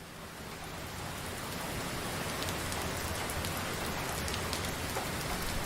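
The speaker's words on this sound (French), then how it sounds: "Voilà, c'est la pluie." A rain shower falls steadily in a dense, even hiss of drops on surfaces, building slightly at the start and then holding constant, with no voices.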